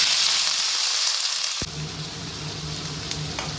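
Hot mustard oil tempered with nigella seeds hisses steadily, then a sharp thump as potatoes drop in, followed by a lower, fuller frying sizzle with a faint hum, close up and with no talking.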